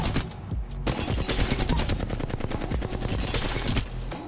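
Rapid automatic gunfire rattles continuously at target dummies in Apex Legends, loud and close throughout, a dense unbroken stream of shots with a brief gap near the start and no talk over it.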